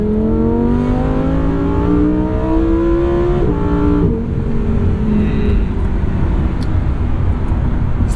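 A 2022 Lamborghini Huracan engine revs loudly and close up, its pitch rising steadily for several seconds, then it shifts and falls away into a rougher, settling roar with no talk over it.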